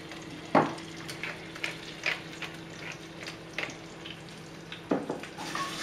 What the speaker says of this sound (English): put the lamb shanks in and we're just going to just brown them very quickly on each side.